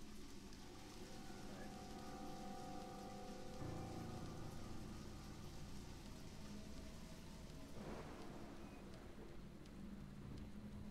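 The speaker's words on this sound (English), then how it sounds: "It just happened to rain." Steady video game rain pattering on a surface, a continuous wash of droplets with a low rumble beneath and a brief swell midway, from Deadly Premonition.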